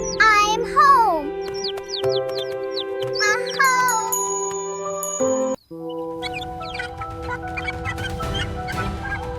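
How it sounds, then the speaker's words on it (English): Cartoon bell jingling on a farm, heard as bright chiming tones and quick squeaky chirps over steady musical notes, fairly loud, with a brief dropout before it resumes. "bell is back."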